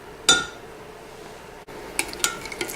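A spoon stirs yeast and sugar into warm water in a cup, giving a few sharp metallic clinks against the cup, spaced by quiet pauses, close and fairly soft.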